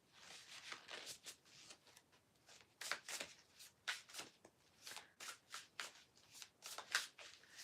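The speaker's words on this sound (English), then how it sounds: "Let me just deal the cards" A tarot deck being shuffled and dealt, a steady run of crisp riffling bursts and card flicks repeating in quick succession, close and fairly quiet with no talking.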